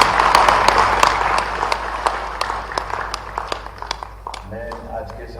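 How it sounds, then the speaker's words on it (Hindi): Audience applause at a public MSME incentive event in Bhopal, a dense wash of clapping that gradually thins into scattered claps as a voice begins to speak near the end. "ताली बजाओ तो दिल से बजाओ एक बार।"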